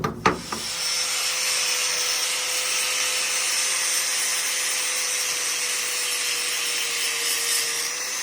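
Steady, continuous grinding whine from a power tool taking material off a steel tank during a Webasto heater install in a skoolie bus, loud and unbroken for several seconds after a few short knocks at the start, with no talk.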